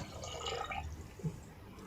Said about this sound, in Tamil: இதுக்கு வந்து நான் 2 கப்பு தண்ணி ஊற்றுறேன்